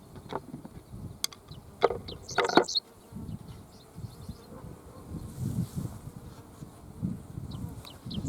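Honey bees hum around a hive in a low, steady drone, with a few faint bird chirps and brief clicks over the buzzing.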